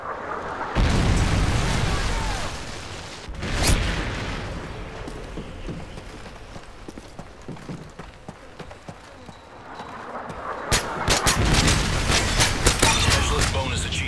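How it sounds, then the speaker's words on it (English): Predator missile strike in a video game, with a heavy booming explosion followed by crackling blasts and a second burst of gunfire-like explosions later, loud and dense. "Friendly Predator missile inbound."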